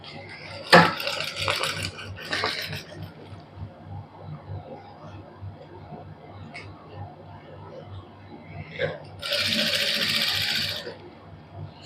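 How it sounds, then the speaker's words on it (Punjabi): Sewing machine stitching a suit with a long tacking stitch, its steady rapid needle rhythm running underneath, broken by a few sharp clicks and clatters of handling and a brief louder burst of hissing noise toward the end. "ਇਹ ਇੱਕ ਵਾਰੀ ਮੋਟੇ ਬਖੇ ਨਾਲ ਹੀ ਲਾਵਾਂਗੇ ਆਪਾਂ ਸਿਲਾਈ ਜਿਹੜੀ"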